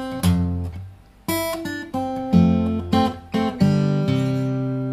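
Electric or acoustic guitar playing a song melody with notes harmonized on the adjacent higher string, a series of plucked double-stops ringing out in a bouncy rhythm, close and clear with no talking.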